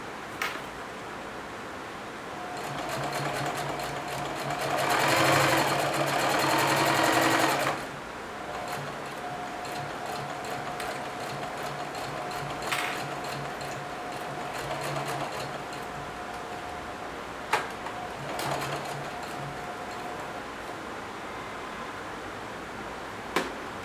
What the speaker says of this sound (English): I'm going to slowly, carefully start sewing with a good back stitch to start and a good back stitch to finish as